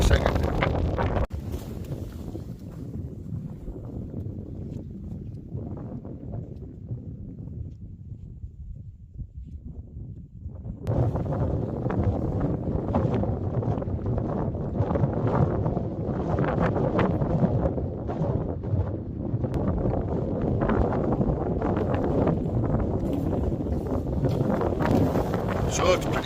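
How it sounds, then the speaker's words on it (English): Cold wind blows across Brim Fell in the Lake District on a hiking trip, buffeting the microphone in loud, continuous rushing gusts, easing for a few seconds before returning strongly. "it's pretty cold and windy"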